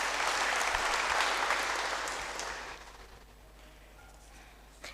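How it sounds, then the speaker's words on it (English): A church congregation applauds at the close of a service, loud sustained clapping that fades away over a few seconds into quiet. "Clap for yourselves for coming."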